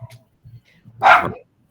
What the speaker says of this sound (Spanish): Ay, perdón por el perro.